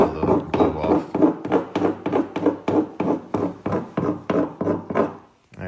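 Sound deadening being scraped off a BMW F30 roof panel during a carbon fiber roof swap, a close series of rapid rhythmic scraping strokes, about a dozen, steady and forceful.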